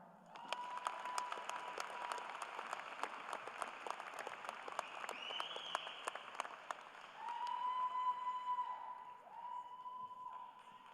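A crowd applauds steadily at a law school commencement, scattered claps over a sustained wash of clapping, with a few faint whistles and tones in the background.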